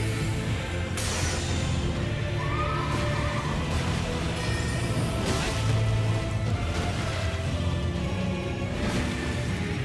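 A horse neighs and whinnies in the video game Elden Ring amid a dense, busy mix of game sounds and clatter, with loud activity throughout.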